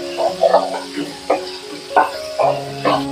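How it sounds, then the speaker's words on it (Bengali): A tomato fries and is stirred in a pan for a shorshe pabda fish curry, a soft sizzle broken by repeated scraping strokes about every half second, with faint tonal hum underneath. "ভালো করে টমেটোটাকে ভেজে নেব।"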